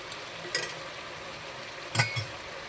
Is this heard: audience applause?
no